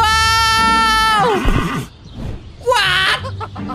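Horse in Scary Teacher 3D gives a loud, close, long whinny that falls into a snort, followed by a shorter second neigh, with no talk over it.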